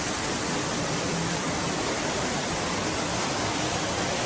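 A theme park ride passing out under a waterfall, with steady, broadband rushing water filling the whole stretch at a loud, unvarying level and no voices.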